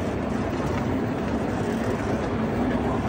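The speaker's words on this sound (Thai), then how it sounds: "แล้วมารถไฟขบวนนี้เดินทางสู่ณปทุมคาเฟ่ด้วยความเร็ว400กิโลเมตรต่อชั่วโมง" Steady rumbling ride aboard a miniature train at a cafe, a continuous close rattle and hum with no distinct breaks.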